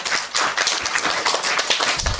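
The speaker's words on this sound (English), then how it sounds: "You should clap for her." Devotional class audience at a temple gathering claps in a dense, steady patter of many hands, fairly loud and continuous for the whole stretch.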